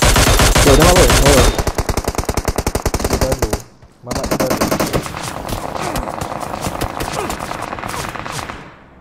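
Rapid automatic gunfire from an online shooter game shootout in the SCG Online final, loud dense bursts that pause briefly then resume as more scattered shots under game noise.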